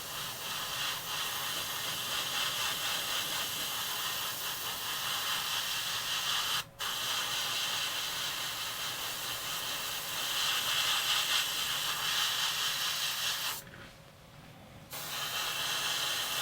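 An airbrush lightly dusts dark green paint onto a northern pike fishing lure, giving a steady close hiss that runs almost continuously, broken by a brief click and a short pause in spraying.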